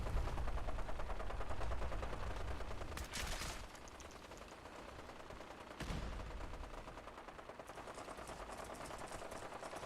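Gunfire in Fallout 4 during a fight with raiders and super mutants: dense, rapid bursts of shots, loud at first, then thinning, with sharp explosive cracks near the middle and a further volley at the end.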